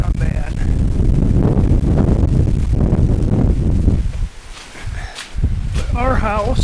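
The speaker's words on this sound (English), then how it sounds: "the wind's still blowing a little bit, but not bad" Wind after Hurricane Ian gusting into the microphone outdoors, a loud rough low rumble that briefly drops away before returning, with someone talking over it and some rustling.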